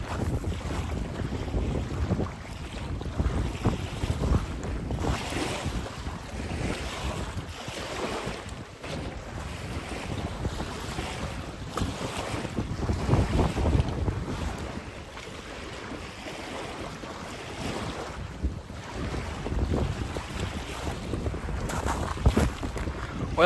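Gusty wind blowing over Enterprise Reservoir in southern Utah, a continuous rushing roar with lapping water beneath, rising and falling in gusts across the whole stretch, with no talk.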